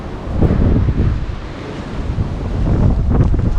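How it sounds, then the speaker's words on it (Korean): Strong sea wind on the Red Sea coast buffeting the microphone, a loud continuous roar with gusty swells and possible surf underneath, no talking. "여기가 지금 홍해 바닷바람이 엄청 세게 불거든요"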